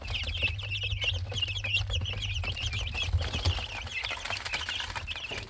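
About thirty chickens, with a white rooster and a copper turkey, cluck and chirp together in a warm coop over a steady low hum, continuous and fairly close.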